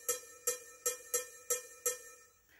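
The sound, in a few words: cowbell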